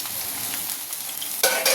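Steamed cauliflower and potatoes frying in a pan give off a steady close sizzle with stirring scrapes, then a louder burst of crackling near the end.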